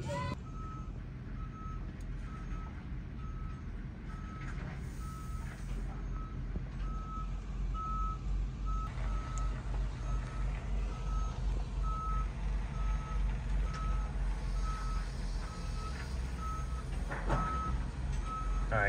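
A truck moving portable modular school classrooms sounds steady reversing beeps at an even rhythm over a low rumbling diesel engine, continuing for the full stretch with no talk.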